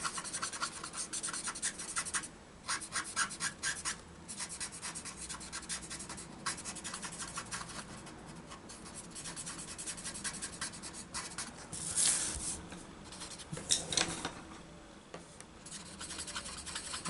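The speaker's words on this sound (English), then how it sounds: "So let's blend it in." Derwent pastel pencils blending colour on paper, a steady soft scratchy rubbing with quick strokes, close and fairly quiet, with no voices.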